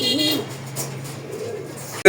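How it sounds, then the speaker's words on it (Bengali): A pair of Rasgolla Kalsigola marked pigeons, a local breed, coo softly and steadily close by, a low continuous hum beneath their calls. "এই জায়গায় এক জোড়া আপনার কলসিগলা মার্কিং এর মধ্যে রাসগোল্লা কবুতর আছে"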